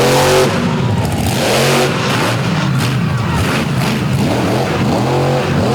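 A fire-truck-themed monster truck roars at full throttle in an outdoor arena, its loud, close engine revving up and down in repeated surges and drowning out everything else.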